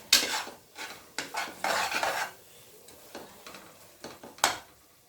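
Chicken biryani masala being stirred in oil in a pot, with intermittent scraping spoon strokes and light sizzling in short bursts and quiet gaps between them.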